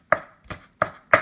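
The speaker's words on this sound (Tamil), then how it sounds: "பச்சை மிளகாவே நல்லா நம்ம பொடியை நறுக்கணும்." Green chillies being finely chopped with a knife on a board: four crisp, evenly spaced close cuts with no talk.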